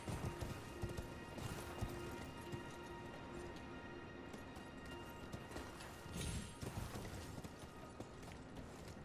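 A horse gallops in Elden Ring, its steady rhythmic hoofbeats running throughout at moderate volume over a dense bed of game ambience.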